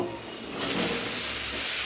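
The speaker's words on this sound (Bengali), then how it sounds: "আলু ঝিঙেটা দিয়ে দিলাম, একটু নেড়ে দেব।" Potato and ridge gourd slices drop into hot oil over lightly fried onions, and the pan's quiet hiss swells into a loud, steady sizzle as the vegetables are stirred, with no talk.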